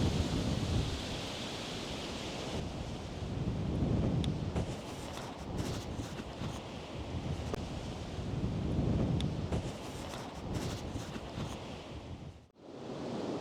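Winter wind gusts outdoors in a loud, rushing roar that swells and eases in slow waves, buffeting close by with no other sounds standing out.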